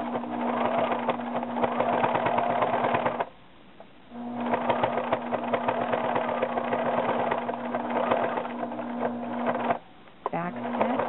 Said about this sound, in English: But I do go slow so I don't stress the motor.